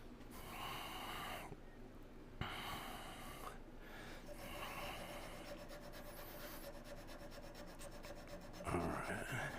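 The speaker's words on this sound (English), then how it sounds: "I'm going to sand that up a little bit" A small wood-turned kangaroo being sanded, giving quiet, continuous rubbing and scraping strokes that pause briefly a few times.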